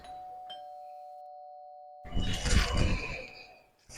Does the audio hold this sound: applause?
no